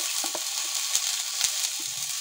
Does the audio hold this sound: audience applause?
no